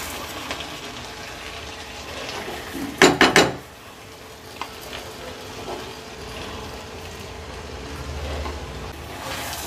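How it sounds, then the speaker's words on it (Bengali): Fried Gobindobhog rice goes into a pot of sautéed potatoes with a short, loud rattle and clatter, followed by a low, quiet sizzle and a few faint knocks. "এবার আমি এর মধ্যে ভেজে রাখা চালগুলোকে সব দিয়ে দেব।"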